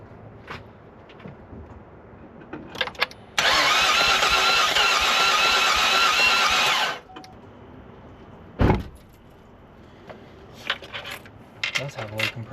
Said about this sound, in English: Sounded like it had an uneven crank this time that I didn't notice last time.